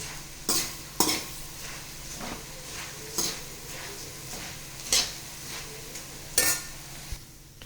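Puffed rice is stirred in hot oil with asafoetida and turmeric for murmura chivda, the spoon scraping the pan in repeated soft strokes over a quiet, faint sizzle.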